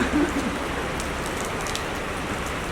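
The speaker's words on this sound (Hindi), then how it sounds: "बहुत बारिश हो रही है प्रभु।" Heavy rain pours down outdoors in Andheri, a dense, steady hiss of drops hitting surfaces that stays loud and even throughout, with no voices.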